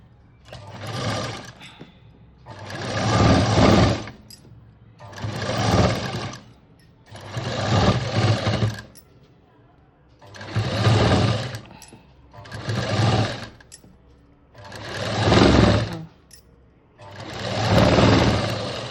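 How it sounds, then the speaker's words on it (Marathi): A sewing machine stitches a blouse sleeve with golden lace being attached, running in about eight steady bursts of whirring, each lasting a second or two, with short pauses between them. It sounds close and fairly loud, and no one speaks. "ही स्लीव शिवून झाली"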